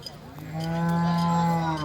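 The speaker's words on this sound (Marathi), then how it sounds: "गाय बघू शकता तुम्ही" A single cow at a cattle market moos once, a long, low, resonant call rising after a short pause and holding steady, fairly close.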